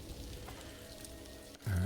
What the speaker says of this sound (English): It's raining, as it is often does in the UK.